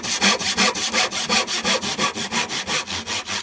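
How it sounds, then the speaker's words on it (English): A hand saw cuts through wood during timber frame construction, giving about fifteen steady, evenly spaced rasping strokes, close and fairly loud, with no voices. "I'm going to do a cut in the middle, I think, Jake."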